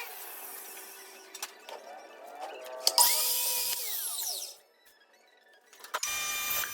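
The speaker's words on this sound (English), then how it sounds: "we can cut our piece of plexiglass down here." A power tool cuts a piece of plexiglass for a lightsaber display case, giving short whirring bursts and then a louder, high-pitched motor whine that rises and falls before stopping, with quiet gaps between.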